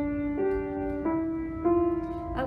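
A simple four-note piano motif, played as single clear sustained notes in a slow even rhythm, close and moderately soft.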